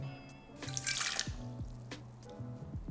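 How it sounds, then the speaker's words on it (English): Hot water running and dripping from a kitchen faucet into a sink during gluten-free brioche baking, heard as close irregular drips and a brief louder splashing stream with no talk. "turn your faucet about as hot as it can go"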